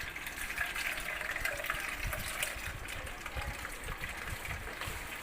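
Blended mint and lemon juice pours through a strainer in a continuous soft liquid trickle and gush, faint and steady, with no talk.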